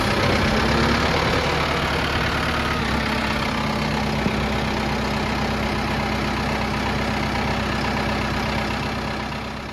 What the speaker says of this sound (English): I'm actually going to start the tractor and let it run